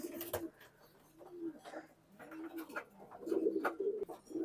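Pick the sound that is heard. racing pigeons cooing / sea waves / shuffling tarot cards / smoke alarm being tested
racing pigeons cooing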